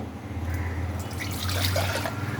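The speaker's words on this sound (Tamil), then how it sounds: "தேவையான அளவு தண்ணி ஊற்றிக்கலாம்" Water pours and trickles steadily into a metal cooker pot for boiling lentils, close by, with a gentle rising gurgle as it fills.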